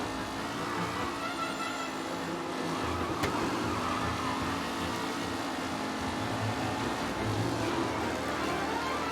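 Race cars driving in the Mafia Definitive Edition game, a continuous engine drone with steady revving and passing motors throughout, moderately loud with no talk.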